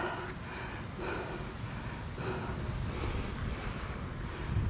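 Strong wind blows during an outdoor run, a steady loud rushing with gusts that swell and fade every second or so.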